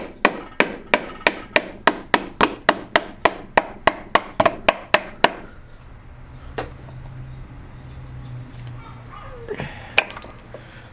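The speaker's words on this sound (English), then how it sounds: "now I got to get the rubber hammer and try and tap this back down in." Steady, evenly spaced thuds of a rubber mallet tapping a part back into a Sears/Craftsman GT 633a transaxle, about twenty blows in a row, then quiet shop noise and a couple of faint knocks.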